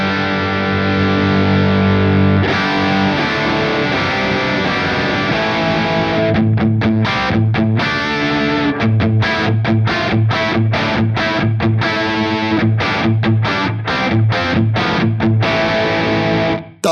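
Electric guitar driven through a Soldano SLO Plus overdrive pedal with the gain pushed up, heavily saturated sustained chords giving way to choppy, rhythmic palm-muted chugs with sharp stops, loud and close, no voices.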